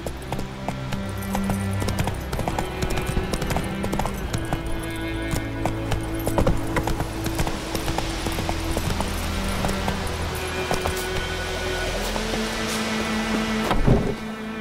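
Horse hooves galloping in The Witcher 3, a fast steady clip-clop rhythm running throughout over a low droning game score, with a louder thump near the end.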